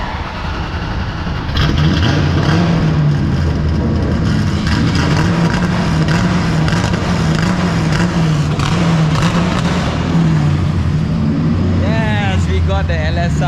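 A car with a 1UZ V8 engine swapped to sound like an LS fires up and revs steadily, loud and close, with people talking over the engine noise.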